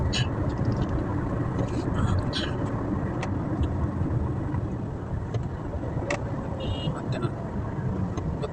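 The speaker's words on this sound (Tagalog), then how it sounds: "nandito yung traffic din" Road traffic on the way to Jeddah International Airport, a steady broadband engine and tyre drone heard from inside a moving car, with people talking over it throughout.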